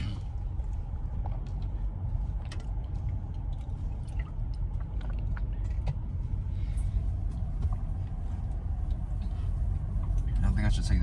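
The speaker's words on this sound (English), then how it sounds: "I'm stuck in traffic, bro." Road traffic heard from inside a car stuck in a Sunday jam: a steady, close low cabin rumble with faint scattered noises above it, continuous for the whole stretch.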